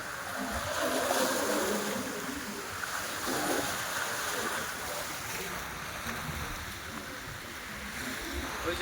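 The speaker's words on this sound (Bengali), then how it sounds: "দারুণ, ঢেউটা দারুণ আসছে, দারুণ।" Sea waves roll in at Digha beach, a broad continuous wash of surf with steady wind noise, fairly close and even in loudness.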